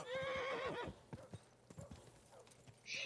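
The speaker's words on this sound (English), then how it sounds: "Oh god, this horse's stamina dies quick." Horse in the video game Kingdom Come Deliverance 2 gives a loud whinny, followed by a quick series of hoofbeats and clip-clops, close and clear with no talk over it.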